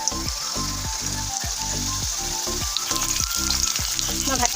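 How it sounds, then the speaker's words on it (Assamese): Bitter gourd pieces fry in hot oil with a steady, close sizzle, broken by repeated scraping and stirring strokes in the pan, no talk. "মই ভাতকেৰেলাখিনিও এনেদৰে ৰঙচুৱাকৈ ভাজি ল'লোঁ"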